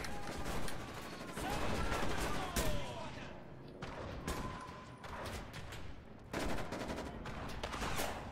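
Shotgun blasts and heavy gunfire from Enlisted, set in the Battle for Berlin, boom in dense overlapping volleys with distant explosions, while a player talks over the combat.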